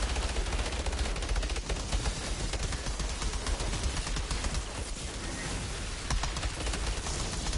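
Deployed turrets in Outriders fire without pause, a dense rattle of rapid automatic shots in a heavy barrage that runs the whole time with no speech.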